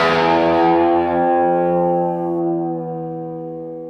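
A distorted electric guitar plays a riff during a live guitar lesson, a single heavy sustained chord ringing out with effects and slowly decaying, loud and alone without talking.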